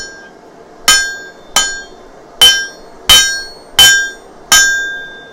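Six sharp metal-on-metal hammer strikes at a steady, slightly uneven pace, each ringing briefly, as the flat faces of a small steel keychain knife blank are forged.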